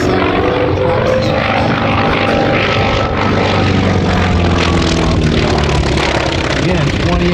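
A Grumman Wildcat warbird propeller plane passes at an airshow, its loud continuous engine drone filling the whole clip with a steady low rumble and a broad roar, and faint talk mixed in underneath.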